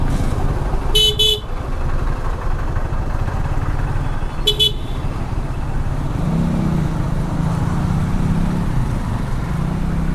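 Motor traffic rumbles steadily while a Bajaj Avenger motorcycle with dual silencers drones nearby, with two short bursts of horn honking early on.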